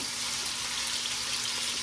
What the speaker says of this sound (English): you see how it's sizzling in there